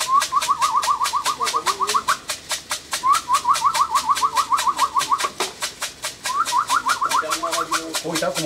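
A flock of racing pigeons comes in to a loft in Prahova, Romania, with rapid rhythmic wing claps and a series of repeated chirping calls. A steady pulsing tone and faint background noise run throughout.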